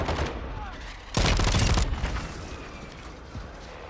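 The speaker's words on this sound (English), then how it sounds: "Everybody's gonna hear me shooting." Loud automatic gunfire from Call of Duty Warzone 2.0 erupts in a single sustained burst partway through, set against a steady background of game noise.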